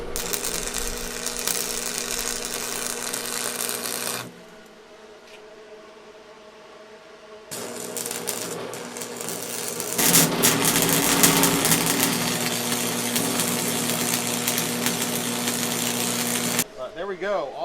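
Craftsman arc welder laying tack welds to fix casters onto cart corners, loud crackling sizzle in bursts broken by a quieter pause, close up, with speech at times.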